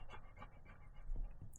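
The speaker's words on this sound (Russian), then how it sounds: "по дыханию собаки даже слышно" A dog pants rapidly and steadily at close range during a trek through a mosquito-filled forest, its quick breaths repeating throughout with faint outdoor background.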